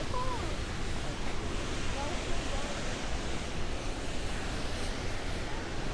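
A constant roaring rush of falling water at Rainbow Falls State Park, Hawaii, dense and unbroken throughout, with a faint voice briefly audible near the start.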